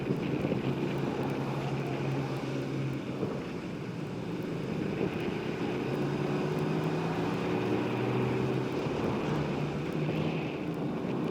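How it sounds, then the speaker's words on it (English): Steady, roaring wind buffets the microphone while riding a 250 kg Peugeot Metropolis scooter, with a low engine and road hum underneath that holds constant throughout and no talking. "the wind's picking up now"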